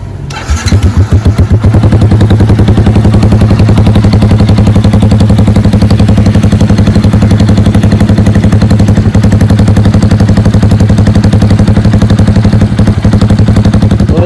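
Cafe racer motorcycle idling after it fires up, its exhaust a loud, close, steady rapid thumping that runs continuously without revving much, with no talk over it.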